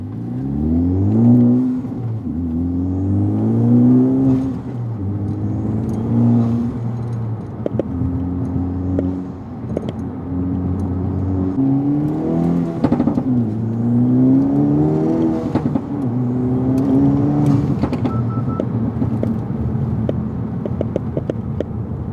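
Honda Civic or Integra Type R with an Acuity full shifter accelerating through the gears, engine note rising repeatedly then dropping at each shift, heard from inside the car, steady and fairly loud, no talking.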